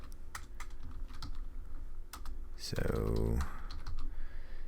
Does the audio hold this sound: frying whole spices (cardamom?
no